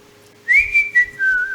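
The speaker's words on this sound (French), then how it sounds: "Là, il a sifflé." A single sustained whistle sounds, loud and close, with a long steady tone that dips briefly and then holds, set against a low background hum.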